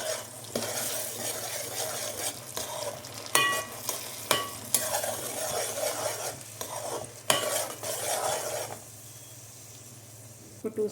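Onions and green chillies fry in a pan for fish korma, a steady sizzle under repeated scraping stirs and sharp clinks of a spatula against the pan, with a low hum behind and quieter sizzling at the end.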